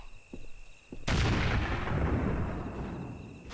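A sharp, loud blast from an F1 frag grenade in the 1999 game Hidden & Dangerous, erupting suddenly after a few faint clicks and rumbling on as a long, noisy decay.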